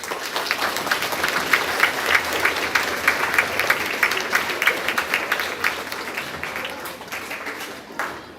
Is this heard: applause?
yes